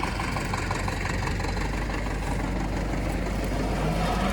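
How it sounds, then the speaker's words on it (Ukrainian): An electric motor on an SRZ 4.2-02 seed drill starts and hums and rumbles steadily at close range, a continuous mechanical drone with a faint rising tone near the end and no speech. "Дивимося, що включається мотор."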